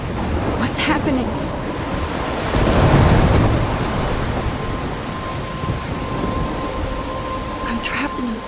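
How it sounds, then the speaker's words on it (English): A thunderstorm with heavy rain in the video game Life is Strange: a steady roar of rain with a deep rolling rumble of thunder swelling in the middle, loud and continuous. "I'm trapped in a storm?"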